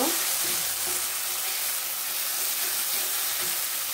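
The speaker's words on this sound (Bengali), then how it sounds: "আদা রসুনটা কিছুটা ভাজা ভাজা হয়ে আসলে এবার" Ginger and garlic fry in a pan for a Bengali bata fish and potato curry, giving a steady, close, loud sizzle with no talking.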